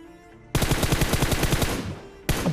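Rapid automatic gunfire in a battle royale video game: one loud, dense burst of shots lasting nearly two seconds, then a fresh burst starting just before the end.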